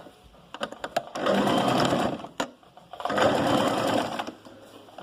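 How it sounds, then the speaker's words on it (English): A sewing machine stitches a zip onto a dress in two close, steady runs of fast whirring, with a short pause between them. "And so what you do is you just sew straight without considering it being here."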